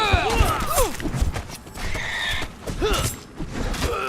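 Horse in the video game Conan Exiles, a whinny or snort with clopping hooves and creaking gear in a night grove, mid-loud, with bursts of combat noise around it.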